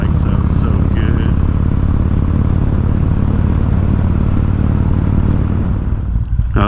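A Harley-Davidson Road King motorcycle cruises at steady speed, its engine a loud, continuous low rumble mixed with wind roar, heard from the rider's seat with no pauses.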